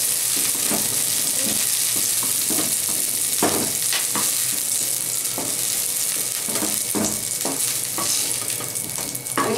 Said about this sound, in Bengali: একদম লাল লাল করে ভেজে নেব ফুলকপিটা